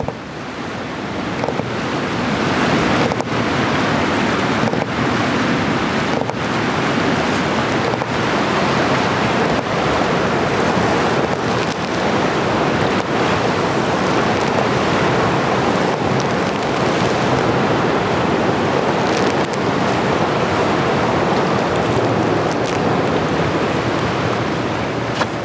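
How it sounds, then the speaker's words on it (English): Rushing river water in Ottawa, a steady broadband wash that stays loud and constant with no voices, carrying some wind-like roar and occasional brief pulses. "All that could be heard was the river."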